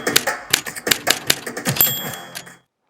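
An Olivetti Lettera 32 manual typewriter typing a quick burst of about a dozen sharp, close keystrikes with a small bell-like ring near the end, then stopping to silence.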